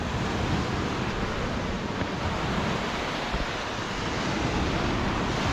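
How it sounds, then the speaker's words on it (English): Strong ocean waves roll in on a rocky Scottish coastline, a loud continuous roar of surf close by, mixed with heavy wind buffeting the microphone and no voices. "The waves are coming in so strong."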